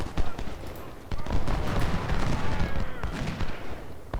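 Artillery bombardment from 20-pounder guns in the Civil War strategy game Ultimate General: Civil War, dense overlapping booms and crackling gunfire filling the scene at steady loudness, with faint battle noise underneath.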